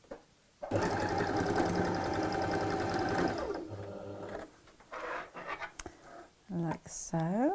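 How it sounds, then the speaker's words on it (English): A sewing machine runs steadily for about three seconds, stitching down both sides of a folded tote bag with pockets, then stops as fabric is handled and a person speaks in short bursts. "sew down either side"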